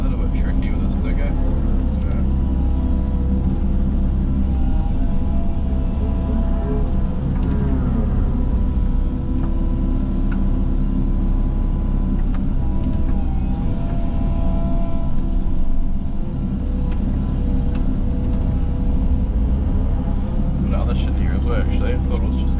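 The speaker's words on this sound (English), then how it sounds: "A little bit tricky with this digger." A digger engine working on a massive landslide repair: loud, steady diesel rumble with a low droning hum throughout, while someone talks over it.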